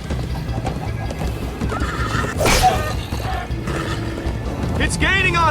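In the Minecraft: Story Mode game, a horse gallops with rapid clip-clopping hooves and gives a loud whinny midway, followed by another near the end, while characters talk over it.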